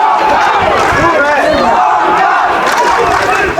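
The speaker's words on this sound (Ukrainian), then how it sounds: "Співають трибуни" Football stands packed with supporters of FC Sevlyush chant loudly and steadily after a third goal, a dense, continuous roar of massed voices with rhythmic rises throughout.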